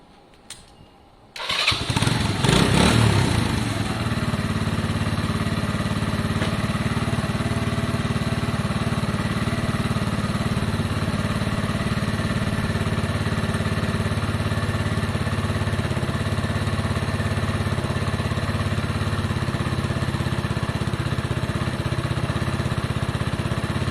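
A Lexmoto motorcycle engine with wiring and lighting faults starts with a brief cranking burst, then settles into a steady, loud, close idle that drones on unchanged.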